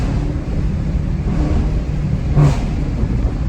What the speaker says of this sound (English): the car is sounding so much more aggressive